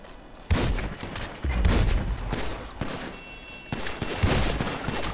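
Gunfire hitting a player in Grand Theft Auto V Online, rapid bursts of close shots with thuds, coming in several sustained volleys separated by short pauses.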